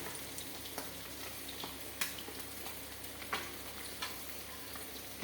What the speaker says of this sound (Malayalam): ഇനി നമ്മൾ മീൻ ഇറക്കി ഇടുകയാണ്.